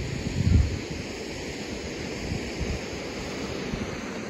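Rushing river water pours out from beneath another river, a steady broadband roar with a low surge near the start, continuous and fairly close with no voices.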